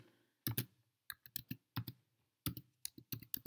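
Typing on a computer keyboard while formatting a scientific document, heard as close, crisp clicky keystrokes in short irregular bursts with brief pauses between words, no voice present.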